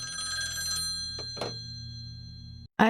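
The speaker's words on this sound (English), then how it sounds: "Such old, dirty phone." Shrill electric bell of an old, dirty rotary telephone ringing in the 2001 film Mulholland Drive, a steady ring with a couple of brief knocks, then a sudden cut to near silence before another sound bursts in.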